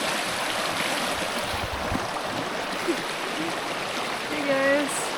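River near Ocqueoc Falls in Michigan, a steady broad wash of flowing water close by, continuous and fairly loud, with a few faint knocks and a brief high tone near the end.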